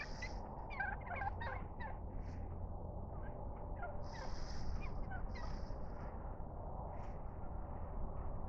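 Wild turkeys gobble on a Texas road, a flock calling in repeated bursts of rapid, warbling gobbles over a steady low background rumble, moderately distant.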